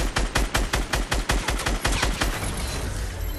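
A SCAR assault rifle in Fortnite fires a rapid burst of about a dozen evenly spaced, loud, close shots, then trails off into a ringing echo with no talking.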